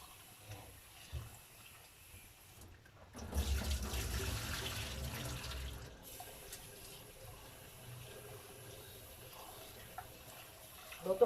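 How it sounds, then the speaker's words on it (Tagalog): Running tap water splashing into a kitchen sink as rice is washed, a steady rushing flow that swells louder for a few seconds, then settles into a softer trickle with faint clinks. "So ito, hugasan ko sa ating bigas."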